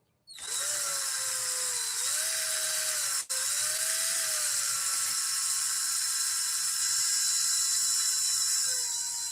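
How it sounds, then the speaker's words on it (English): A cordless electric drill runs in reverse, spinning to wind thread onto a long sewing machine bobbin, a steady loud whine with a brief dip in pitch partway through and no talking. "Reverse the drill again."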